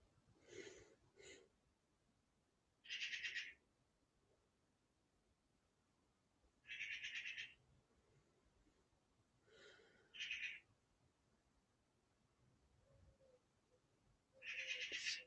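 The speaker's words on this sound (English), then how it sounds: "Excuse the noisy bird outside." A bird calls outside in short, loud bursts of a few seconds each, repeating at irregular intervals with quiet stretches between them.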